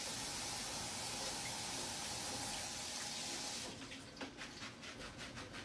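Tap water pours steadily to rinse lettuce, a dense close rush that cuts off partway, leaving drips and small splashes at the sink.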